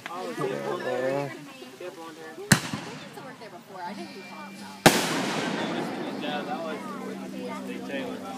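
Two sharp July 4th firework bangs a couple of seconds apart, followed by crackling, with people talking and laughing throughout.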